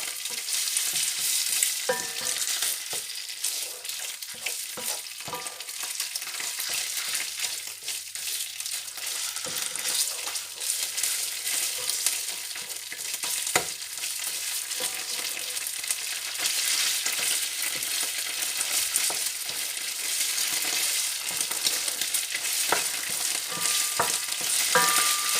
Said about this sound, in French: on va d'abord un peu cuire la tomate comme ceci